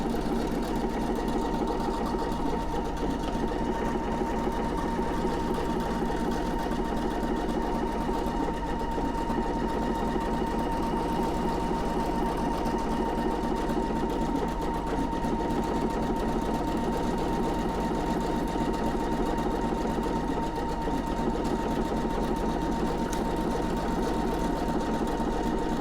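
A Pfaff Creative Icon 2 sewing machine stitching steadily along a fabric fold, a continuous even mechanical hum and rapid needle rhythm running without pause, close and unbroken.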